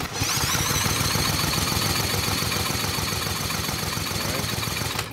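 A Briggs 3.5 hp engine on a Craftsman steel-blade edger is cranked over, giving a rapid, continuous chugging of compression strokes with a loud, rough whir for about five seconds.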